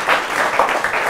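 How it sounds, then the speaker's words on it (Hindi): An audience applauds with steady, scattered clapping that fills the room, moderately loud and without a clear rhythm. "जोरदार तालियों के साथ उनका स्वागत।"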